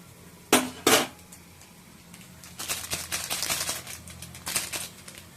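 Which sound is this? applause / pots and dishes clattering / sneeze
pots and dishes clattering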